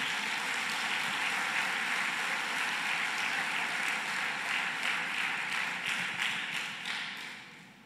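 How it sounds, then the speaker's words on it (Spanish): A church congregation claps loudly in a dense, sustained round of applause that carries on evenly for several seconds before fading toward the end. "Denle un fuerte aplauso al Señor."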